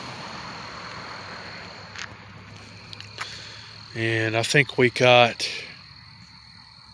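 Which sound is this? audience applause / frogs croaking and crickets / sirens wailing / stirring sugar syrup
frogs croaking and crickets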